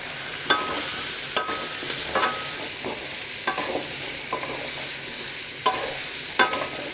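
Mangoes sautéed with turmeric in a pan hiss in a steady sizzle, broken by several sharp scrapes and knocks of a spatula stirring at irregular intervals, close and fairly loud with no voices.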